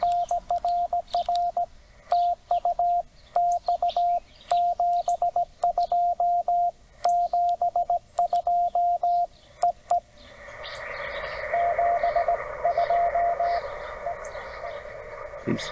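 Keyed Morse code from a weak, low-power QRP amateur radio station, received during a Parks on the Air CW activation at Port Royal State Park, Tennessee: a single steady tone pulses in clear dot-dash rhythm for about ten seconds, then gives way to louder hiss and band noise.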